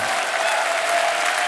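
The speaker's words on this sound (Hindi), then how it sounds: "एक बार जोरदार तालियां हमारे मेहमानों के लिए।" A television comedy show's studio audience claps loudly for its guests, a dense, steady burst of applause filling the short moment without a break.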